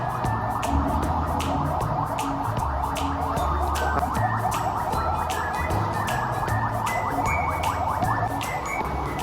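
A fire truck siren wails continuously with a rapid repeating yelp, loud and steady throughout, with engine and street rumble underneath at an indoor children's role-play city.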